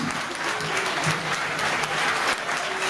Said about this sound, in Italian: Un grande applauso ai grandi attori di Senilis